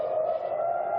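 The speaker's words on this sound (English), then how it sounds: "These sirens that you hear off in the distance, again, are used to warn the population to get into shelters." Air raid warning sirens wail far off during the Israel–Iran conflict, a steady, droning tone held without a break.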